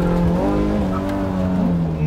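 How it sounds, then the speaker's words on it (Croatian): A car swings through a handbrake turn and then accelerates, its engine revving with rising and falling tones under tire noise, loud and close, while voices talk over it. "Sad ćeš okrenut auto pod ručno."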